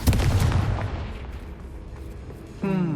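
Confringo blasting spell in Hogwarts Legacy, a single loud booming burst at the start that decays into a rumbling tail, followed by a voice near the end.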